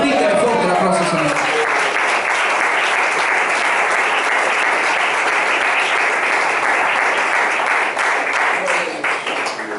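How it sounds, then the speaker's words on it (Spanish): Loud, sustained applause from a congregation during an evangelical church service, dense and steady throughout with cheering voices mixed in. "Dígale fuerte el aplauso"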